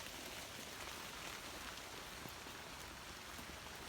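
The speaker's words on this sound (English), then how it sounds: "I'm not getting rained on." Steady rain falls on the trees of a farm garden, a dense, even hiss of drops on leaves that holds constant throughout, with no talk.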